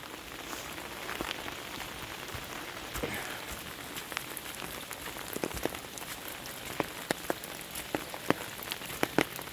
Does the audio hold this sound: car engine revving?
no